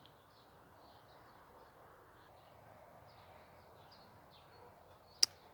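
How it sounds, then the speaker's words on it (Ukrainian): Birds call and sing at dusk in still, windless air after a thunderstorm in a small Ukrainian town, soft scattered chirps over low ambient noise, with one sharp brief click near the end. "І дивно, що так у сутінках активно співають птахи, як на світанку."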